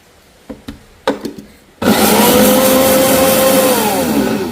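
A mixer grinder whirs continuously as it grinds roasted ingredients into powder for a traditional sweet, starting abruptly after a few soft knocks and clicks and then running loud and steady to the end.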